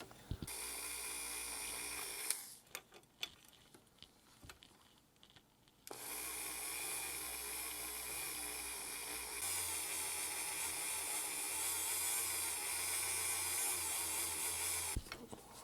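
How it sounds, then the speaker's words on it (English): A rotary tool buffs the windshield of a vintage Hot Wheels Corvette with rubbing compound, giving a steady high-pitched whine that stops briefly for scraping and handling sounds and then runs on at length, close and continuous. "We're going to give this a little polish with some rubbing compound"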